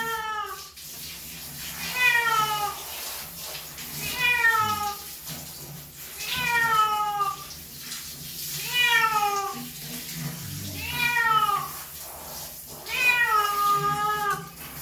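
A cat meowing while being bathed, giving about six drawn-out, wavering yowls at roughly two-second intervals, close and loud over running water from a tap.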